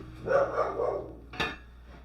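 A dog at home barks a few times in quick succession, close and fairly loud, followed by one sharper yip, with no talking over it.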